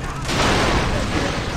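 Heavy gunfire in the Far Cry 3 video game, a loud, dense burst of shots and booming blasts rolling continuously with a voice talking under it.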